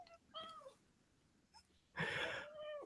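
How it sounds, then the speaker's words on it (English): A house cat meows several times, short mewing calls separated by quiet gaps, ending with a louder, drawn-out meow close to the microphone. "So, and there's Jason's cat."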